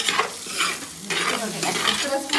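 Shallots sizzle and fry in a pan for a beef curry while a spoon stirs them in repeated scraping strokes, a close, steady crackle with no talking.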